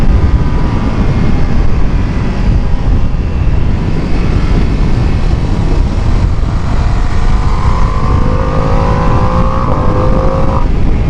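A Ducati Panigale V2S motorcycle roars loudly and continuously from close range, its engine note climbing as it revs and accelerates, with heavy wind rush blended into the sound and no voices present.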